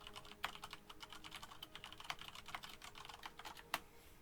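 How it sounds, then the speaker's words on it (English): Typing on a computer keyboard in a Heroes of the Storm esports lobby, a steady run of light clicking keystrokes with a few sharper taps, fairly quiet and without voices. "Thanks, Jake, for typing that out."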